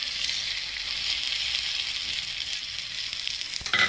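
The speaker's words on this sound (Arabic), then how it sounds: "البصله تمام، هنزل بالرز" White Egyptian rice, washed and drained, is added to golden frying onions in a pan, giving a steady close hiss of sizzling with a brief clatter at the end.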